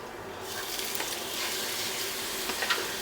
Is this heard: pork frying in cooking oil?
yes